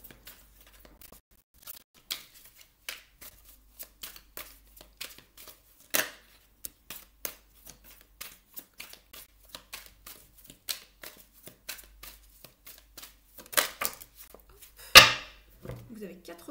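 Tarot cards are shuffled and handled at close range in a quiet room, with scattered crisp flicks and taps and a louder riffle near the end.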